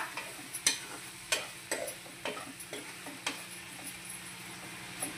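A spoon stirs chili powder and turmeric into a bitter gourd tamarind curry in a pan, giving a run of close, irregular taps and scrapes over a soft, steady sizzle, with no talking.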